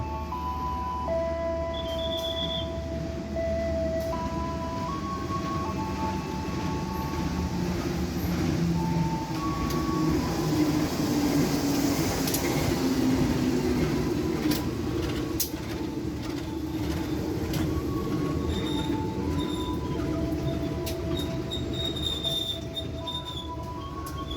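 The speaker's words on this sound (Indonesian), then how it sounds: "kita bersilang dengan KA Pasundan yang akan tiba di jalur 1" The KA Pasundan passenger train rolls into track 1 at an Indonesian station, rumbling steadily up close. Its wheels squeal and screech in a series of high tones throughout.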